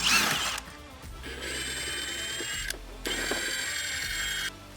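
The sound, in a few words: T40 Torx tool removing inner fender bolts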